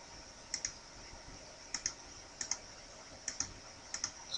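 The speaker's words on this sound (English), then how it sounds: "So I'm just clicking along the outside of the pen." Mouse clicks while selecting the outline of a pen in computer software: crisp, close, quiet double clicks repeated at irregular intervals, alone over a faint hiss.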